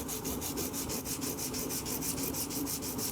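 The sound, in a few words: sanding metal with emery cloth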